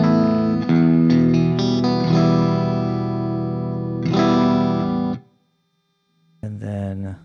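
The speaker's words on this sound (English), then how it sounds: "Let's do a good old Fender Double Reverb. Let me switch to my single coils." Clean electric guitar with single-coil pickups played through an Axe FX modelling a Fender Double Reverb amp: ringing chords and single notes sustaining for about five seconds, a short silence, then another strum.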